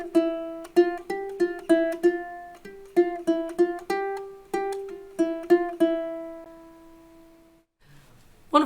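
A ukulele picks a single-note melody in 3/4 time on the second string: a bright, steady run of plucked notes, close and clear. The last note rings out and decays before a faint rustle, with no speech.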